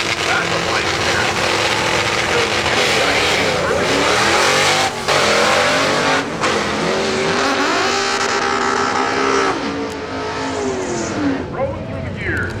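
Drag race cars in a first-round elimination at Woodburn Dragstrip roar and accelerate hard, their engine pitch climbing and dropping with each gear change, loud and continuous, while a commentator speaks over the noise.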